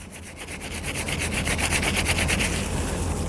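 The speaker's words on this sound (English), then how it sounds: "Just rubbing it together to create lather." A soapy washcloth is rubbed against itself to work up a lather, giving a rhythmic, close scrubbing swish of fabric that grows steadier, with no talk.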